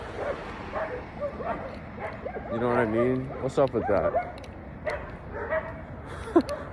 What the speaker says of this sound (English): People got these aggressive ass dogs sitting behind these 3-foot tall fences.